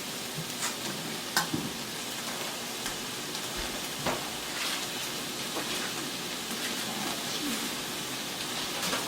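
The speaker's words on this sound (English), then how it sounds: "I'm gonna kind of turn my heat up just a little bit so I can now just start browning these steak pieces" Steady sizzling and crackling of steak pieces browning in a hot pan with mushrooms and onions for cheesesteak stuffed peppers, continuous and close with no talking.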